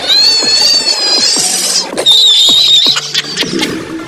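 A cat at a window answers a crow with loud, drawn-out, wavering meows and chattering yowls, repeated in two long bursts with short sharp calls between them, close and clear.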